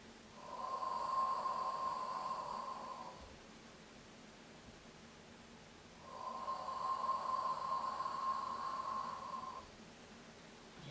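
A person breathes in slowly during a Pilates exercise, two long airy inhales a few seconds apart with a pause between them, close and fairly clear with no talking.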